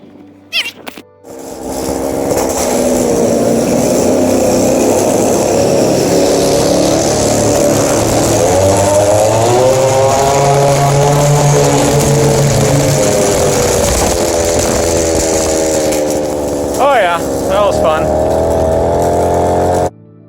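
A Go-Ped motorized scooter's small two-stroke engine buzzes loud and steady while riding near Aurora Reservoir, the pitch rising and falling with throttle over about twenty seconds, starting abruptly after a brief pause.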